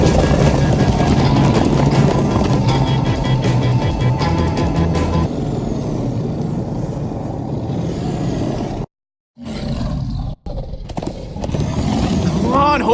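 Horses' hooves pound in a quick, continuous rhythm over Minecraft Story Mode game music and voices, then cut off abruptly near the end with brief silences.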